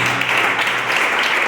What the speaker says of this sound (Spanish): ¿Cuántos por agradecimiento quieren rendirle un aplauso a Dios por esta?